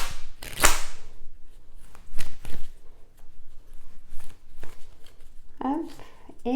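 Oracle cards being shuffled by hand: a sharp riffling burst, then several softer slaps and shuffles, close and clear, with a voice speaking between them.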